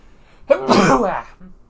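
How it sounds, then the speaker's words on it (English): A single loud sneeze bursts out close by, a quick sharp intake followed by a forceful explosive release, then quiet. "I gotta sneeze"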